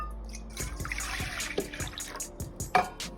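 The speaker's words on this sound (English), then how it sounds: "let's take our lukewarm milk and we're gonna pour it in the bowl" Lukewarm milk pours into a bowl with a soft liquid trickle and splashy drips, close and fairly quiet, with a few small knocks and clatters around it.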